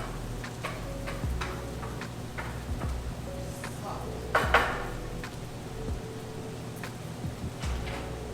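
Shiitake mushrooms are stirred in a pan, with a steady run of soft ticking taps and scrapes of a utensil against the pan over a quiet sizzle, and one louder clatter midway.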